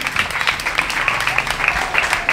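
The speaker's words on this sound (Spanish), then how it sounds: "Un fuerte aplauso por ahí" A family gathering bursts into applause for someone receiving a surprise gift, a steady patter of many hands clapping nearby, with faint voices underneath.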